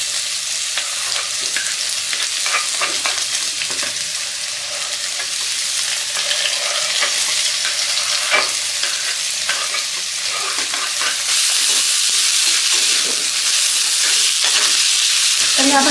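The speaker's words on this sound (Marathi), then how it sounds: "ह्या भाज्या फक्त आपल्याला हलक्याशा 1 मिनिटांपर्यंत आपल्याला परतवून घ्यायच्या आहे" Chopped onion and vegetables sautéing in a pan for masala macaroni pasta, a steady close sizzle and frying hiss with stirring scrapes throughout, growing slightly brighter toward the end, with no talk.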